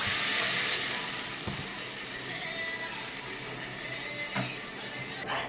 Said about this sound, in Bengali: এরপরে আমি কিছুটা জল দিয়ে দেবো।